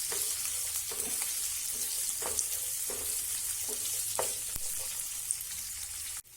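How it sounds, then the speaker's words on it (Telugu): Large-cut onions and green chilies fry in a pan for bhindi do pyaza, a quiet continuous sizzle with periodic scraping stirs roughly every second, fairly close, ending abruptly without any talk. "ఆనియన్స్ వేగిపోయాయి"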